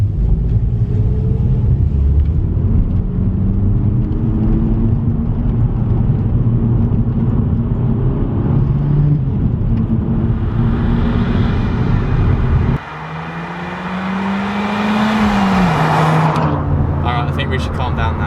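Volkswagen Golf Mk5 GTI driven hard, its engine droning loud and steady, then a gearchange and a rising, straining revving note near the end, with cabin rumble throughout.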